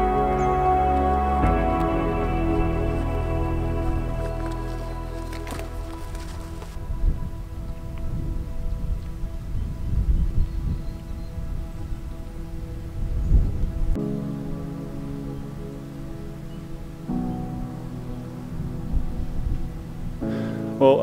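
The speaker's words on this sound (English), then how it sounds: "we've got the rain moving in now" Steady rain falls outside a cave in a canyon at a rainy camp, a continuous wash of drops with a few soft low rumbles, rising and dipping in texture across the stretch with no talking.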